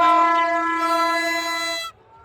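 A single loud, sustained horn blast from a fairground ride train, bright and harmonic, held for nearly two seconds before cutting off abruptly.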